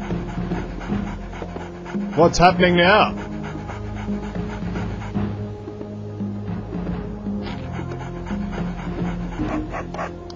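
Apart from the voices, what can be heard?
dog panting and whimpering in the video game MDK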